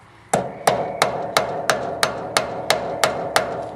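A hammer strikes a metal punch about ten times in a steady, even rhythm while changing a Bren Gun Carrier road wheel, each blow sharp, ringing and close.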